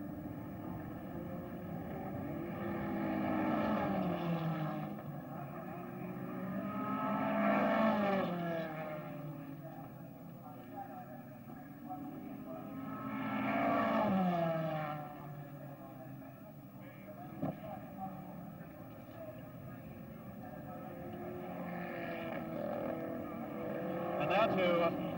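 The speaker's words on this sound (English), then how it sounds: "There goes Bruce McLaren round Polo Corner, accelerating up the short straight to Ledger once again." A 1963 Australian Grand Prix racing car, driven by Bruce McLaren, accelerates up a short straight on the circuit. Engine roars swell and fade several times in rising passes, heard at a distance beneath continuous commentary.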